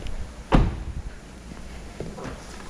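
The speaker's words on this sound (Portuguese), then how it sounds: "Vamos ver lá o porta-malas." The trunk of a 2015 Honda Civic 2.0 LXR opens with one sharp, close latch clunk, followed by quieter handling rustles.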